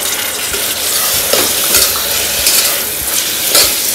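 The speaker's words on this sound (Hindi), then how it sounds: "मटर को भी दो मिनट ऐसे ही फ्राई होने देते हैं अच्छी तरह से" Green peas fry and sizzle in a hot pan while being stirred, a loud, continuous close-up hiss with soft scraping strokes of the spoon and no voices.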